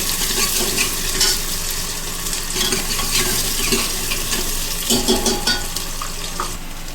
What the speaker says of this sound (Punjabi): ਹੁਣ ਅਸੀਂ ਇਹਦੇ ਵਿੱਚ ਪਾਵਾਂਗੇ ਪਿਆਜ਼ ਪਿਆਜ਼ ਨੂੰ ਅਸੀਂ ਹਲਕਾ ਹਲਕਾ ਬਰਾਉਨ ਕਰਾਂਗੇ